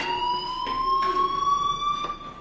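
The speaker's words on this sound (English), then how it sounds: "do you hear that fire alarm? That means you should be outside." Fire alarm ringing in the video game Life Is Strange, a steady high electronic tone with harmonics and short pulsing bursts, fairly loud and alone.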